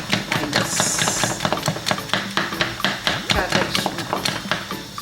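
Spoon beating and stirring okra in a pot of oil-less okra soup, producing rapid repeated clacking and tapping strokes in a busy, steady rhythm, close and loud, over a low background hum.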